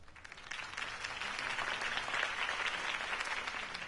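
A crowd applauds steadily, dense clapping from many hands that swells slightly and holds at a fairly loud level throughout.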